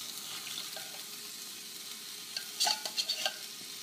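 Coconut milk is poured into a pot of Thai red curry with meat and stirred, making a steady soft sizzling hiss, then a few sharp clinks and scrapes of a utensil near the end.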